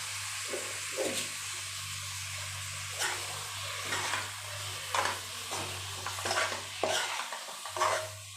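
Prawns frying in a pan for a Tamil prawn curry, stirred with a utensil in repeated scraping bursts over a steady sizzle and a low hum, close and moderately loud, with no talking.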